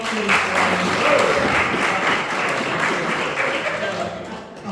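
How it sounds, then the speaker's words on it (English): An audience breaks into a round of applause, with close, full clapping running for several seconds before it tapers off. "How about a round of applause for at"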